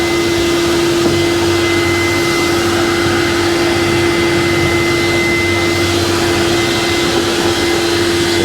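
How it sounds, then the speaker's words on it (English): An air compressor inflates large boat fenders through a white hose in the open garage of a Wallywind 110 sailing yacht, a loud, steady whining drone with a constant tonal hum, unbroken from start to end with no voices. "you see the white hose here attached to the air compressor, filling this one up at the moment"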